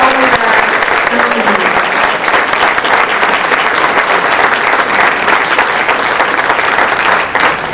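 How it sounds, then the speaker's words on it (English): A crowd applauds Hall of Fame inductees at an induction evening, sustained and loud clapping that runs evenly throughout with a faint voice at the very start. "So another round of applause for all of that."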